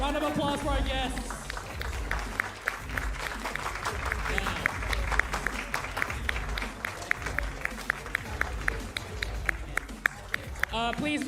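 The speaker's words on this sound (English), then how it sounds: "Special round of applause for our guests" An audience at the eFootball Championship 2024 World Finals applauds guests after a trick performance, a steady wash of clapping with sharp individual claps standing out, mixed with crowd noise and voices throughout.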